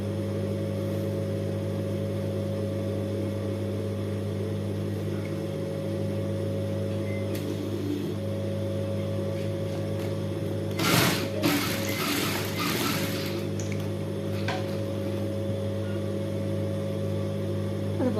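A sewing machine stitches elastic onto a skirt with a steady, close mechanical whir and hum, broken by a short burst of rattling clatter near the end.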